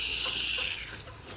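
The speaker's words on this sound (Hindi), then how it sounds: "बारिश जब आएगी तब आएगी, हमारे पौधे क्यों प्यासे रहे। पानी लगा लेते हैं।" Water sprays from a hose onto plants in a Pakistani village garden, a brief, steady hiss heard close and alone.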